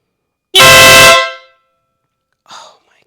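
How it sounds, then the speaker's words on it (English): A Pan America motorcycle fitted with an added horn lets out one loud, sustained blast close by. Much later comes a brief, fainter sound. "I'm going to try the horn"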